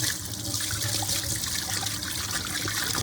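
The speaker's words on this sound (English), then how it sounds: "we're gonna wash the pinto beans with cold water" Cold water running over pinto beans being rinsed, a steady close splashing and trickling stream, continuous throughout with no talking.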